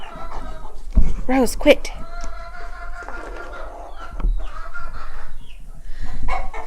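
Chickens cluck and squawk on a farm in autumn, close and lively, with bursts of loud calls among steady clucking while a person speaks briefly over them.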